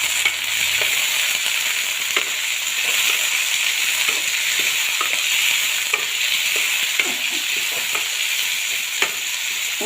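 Grapes and tomato fry together in a pan for a Gujarati grape curry, giving a steady loud sizzle broken by repeated scraping stirs throughout, with no talking.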